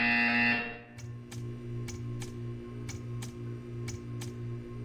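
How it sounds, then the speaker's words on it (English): A buzzer in the Portal 2 video game sounds as a series of evenly spaced sharp electronic ticks over a steady low machine hum, following a brief louder tone at the start. "You will hear a buzzer."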